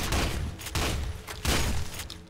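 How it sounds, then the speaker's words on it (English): Shotgun fire in the first-person shooter F.E.A.R. 2: Project Origin, three loud booming blasts about three quarters of a second apart, each with a brief ringing tail. "The shotgun was probably one of my favorite weapons in F.E.A.R."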